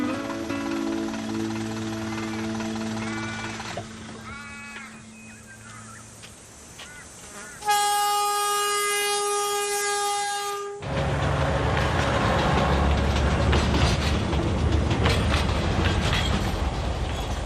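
A train rolls along the track with a rising horn-like tone partway through, then a loud, rumbling rattle of wheels as it passes close.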